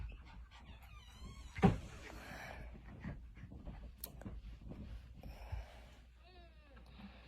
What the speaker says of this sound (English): So, can you please close my door?